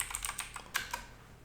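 A short burst of typing on a computer keyboard to enter a terminal command: several quick, close key clicks over about a second, quiet and alone.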